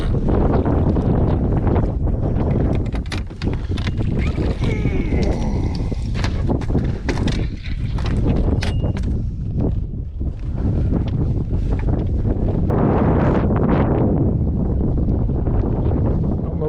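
Wind blasts steadily across the microphone aboard a fishing boat out on the water, a loud continuous roar with gusty swells and rumbling buffeting throughout, no voices heard.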